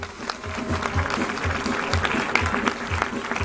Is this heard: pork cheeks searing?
no